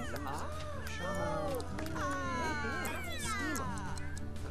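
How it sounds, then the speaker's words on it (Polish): Cats in the video game The Sims 3 let out several rising and falling meows in quick succession, close and clear, mixed with people talking in the background. "Koty wróciły."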